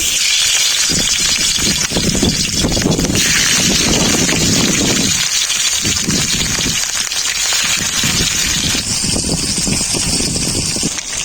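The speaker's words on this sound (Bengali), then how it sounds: "তেল খুব ভালোভাবে গরম হয়ে গেছে। মাছগুলো হালকা করে ভেজে নেব।" Fish fry in hot mustard oil in a wok, a loud, steady sizzling gush with crackling spatter that runs on throughout, close up.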